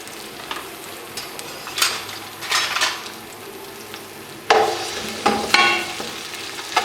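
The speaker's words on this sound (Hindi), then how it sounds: "1 कप ऑयल में मैं 3 मीडियम साइज़ की बारीक स्लाइस की प्याज डाल के उसको फ्राई कर लूँगी गोल्डन" Thinly sliced onions, three medium ones, frying in a cup of hot oil in a pressure cooker, a steady close sizzle broken by louder scraping stirs and a few metallic clinks of a utensil against the pot.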